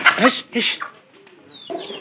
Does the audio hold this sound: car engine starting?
no